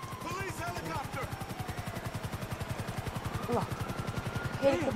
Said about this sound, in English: Police helicopter.